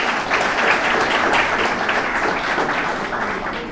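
A large audience at a formal gathering gives sustained, dense applause, loud and fairly close, fading slightly toward the end.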